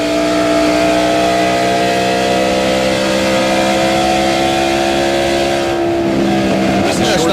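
A loud, sustained stock car engine drone at 8,100 RPM during a 2000 Pennsylvania 500 race, steady harmonics holding near constant pitch, then shifting and roughening near the end as if easing off.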